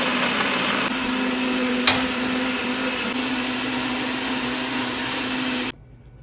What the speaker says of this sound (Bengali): তো সব কিছু আমি ব্লেন্ডারে এখন দিয়ে দিচ্ছি, তাকি একটা ভালো স্মুথ পেস্ট হয়ে যাক।